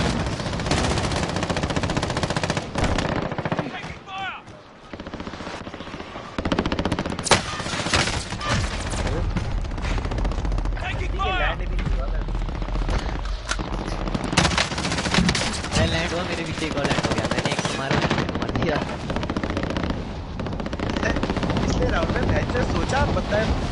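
Sustained automatic gunfire rattles in a Call of Duty Warzone battle royale match on PS4, with helicopter rotor drone and scattered bursts layered beneath game voice chatter throughout, dense and loud with a brief lull near five seconds.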